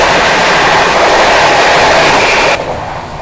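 An Indian Railways express train, the Seemanchal Express, roars past close by with a loud, continuous rushing rumble of wheels on rails that eases off slightly near the end.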